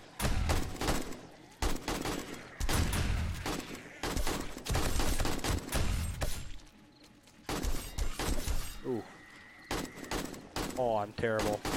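Rapid bursts of AR-15 rifle fire during a horde night in the zombie survival game 7 Days to Die, loud and repeated in clusters with pauses, while someone talks over the shooting.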